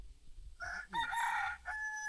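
A rooster crows at a chicken coop in a Laotian village, one loud, close cock-a-doodle-doo rising then holding, with a brief trailing note at the end and no talk.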